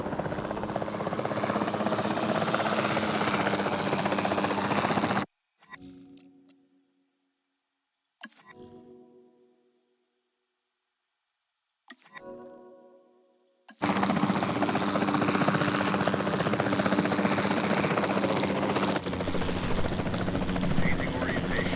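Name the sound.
capture team helicopter flying in Jurassic World Evolution 2 video game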